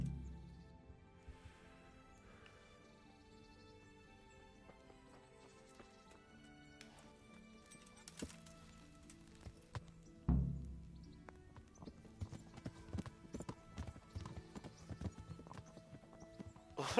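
Horse hooves clip-clop at a steady riding pace in the medieval video game Kingdom Come, faint at first, then louder and busier in the second half under a soft musical score.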